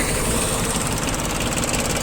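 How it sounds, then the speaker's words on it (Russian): A Yanmar UM2020D Japanese mini tractor's engine runs steadily at close range, a loud even throbbing with no voices. "Обороты набирает ровно, быстро, также быстро их обратно сбрасывает, работает ровненько после этого."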